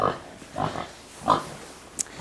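Pigs grunting in their nest inside a barn in cold weather, three or four short, close grunts spaced apart, with quiet gaps and a faint brief squeak at the end.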